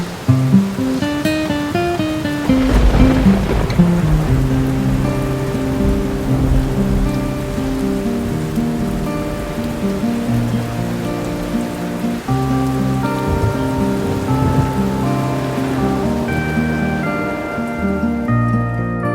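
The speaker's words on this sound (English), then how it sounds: "Wind, rain, lightning strikes in and near the park." Heavy rain pours steadily during a night storm over a park campground, a dense continuous hiss running throughout beneath loud music.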